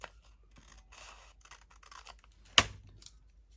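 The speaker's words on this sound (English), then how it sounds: "so I'm going to trim it off just a little bit." Scissors trim the flaps of a paper bag with one sharp, close snip, surrounded by faint paper rustling and handling noises.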